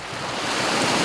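Sea waves at Liloan, Southern Leyte, a brief steady wash of surf with some wind noise on the microphone, fairly loud and continuous.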